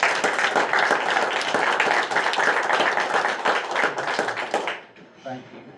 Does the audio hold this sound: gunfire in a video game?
no